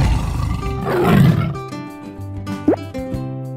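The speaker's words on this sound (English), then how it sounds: "Tiger." A tiger lets out a deep, rumbling roar that swells and fades, loud and close, followed by a short splashy pop as background music continues.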